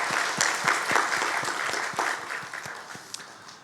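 A Korean church congregation applauds during a Sunday worship service, a full, close wash of many clapping hands that gradually thins and fades toward the end.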